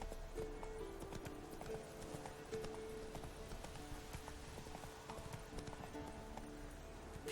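Steady clip-clop of horse hooves trotting at an even pace in the video game The Witcher 3: Wild Hunt, fairly close, with faint background sounds and no talking.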